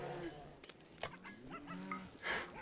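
Ducks in RimWorld give several honking, goose-like calls at irregular intervals, fairly quiet against a soft background.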